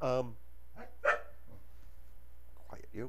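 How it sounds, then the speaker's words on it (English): Pet dog barking and growling in the background indoors, a few short sharp barks spaced across a few seconds, with a person's voice briefly hushing it. "that's my dog growling in the background"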